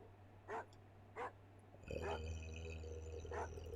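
Two short barks from a dog in The Jetsons: George Jetson and the Legend of Robotopia on the Amiga, followed by a steady music-like tone with one more bark over it near the end.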